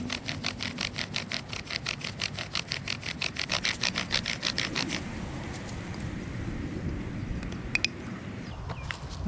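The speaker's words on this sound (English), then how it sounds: "we're going to go ahead and burn it in with our spindle" A bow drill spindle burns into a wooden fireboard with fast, rhythmic back-and-forth rasping strokes. The strokes are close and loud for about five seconds, then the sound settles into quieter scraping and handling noises.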